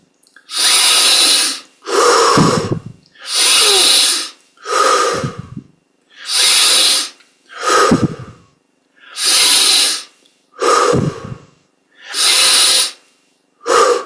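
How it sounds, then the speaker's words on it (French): Deep, forceful breaths during a meditation practice, nine long hissing inhales and exhales in a slow steady rhythm with short silences between, very close and loud with no talking. "On augmente l'amplitude des respirations."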